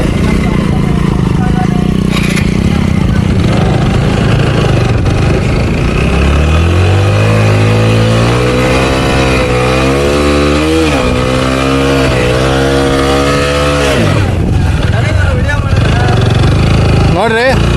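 A motorcycle stuck in place with its wheel slipping, engine revving hard and loud, the pitch climbing and holding high before dropping back, with a voice over the engine noise.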